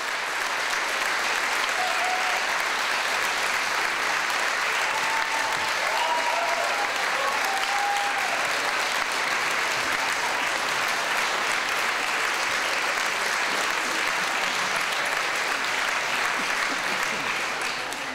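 Theater audience applauding a two-person educational theater company, steady dense clapping that fills the room continuously from start to finish, loud and close with no pauses.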